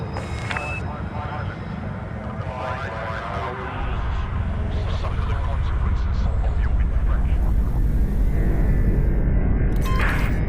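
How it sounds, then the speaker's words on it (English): Spaceship vertical thrusters firing in Elite Dangerous as the ship lifts off a station landing pad, a deep roaring rumble that swells about four seconds in and holds loud, with a voice speaking over it. "You can use your vertical thrusters to clear the landing pad."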